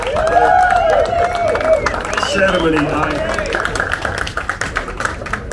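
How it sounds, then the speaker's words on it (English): Audience applause at a whiskey tasting event, a dense wash of clapping that runs throughout while a voice keeps talking over it and slowly thins out toward the end. "A big round of applause for Julie for that"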